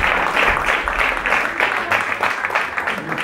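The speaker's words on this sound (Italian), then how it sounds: "Facciamo un applauso a Gabriele che è lì" A studio audience breaks into applause for Gabriele, a loud, close burst of dense clapping that pulses steadily for a few seconds without pause.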